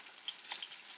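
Egg brick pastry frying in a hot pan gives a soft, steady sizzle with faint crackles, quiet and continuous throughout.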